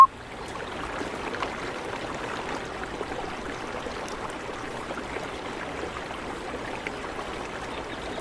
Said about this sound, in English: the sound of running water.